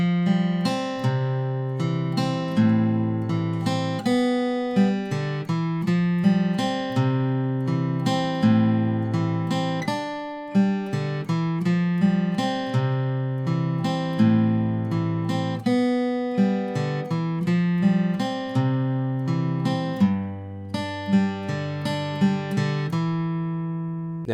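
A guitar plays the first verse chords of a song, strumming steadily in a clear, even rhythm for the whole stretch, with no voice.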